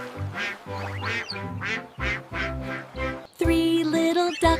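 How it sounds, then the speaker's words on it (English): Rhythmic run of duck quacks over a bouncy children's nursery-rhyme tune about five little ducks, about eight evenly spaced calls, loud and close, with a brighter burst of music near the end. "Mama duck called quack, quack, quack"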